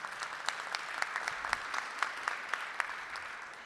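An audience at a Rotary club luncheon honoring public school teachers gives a round of applause, fairly faint and distant, with individual claps standing out in an even patter.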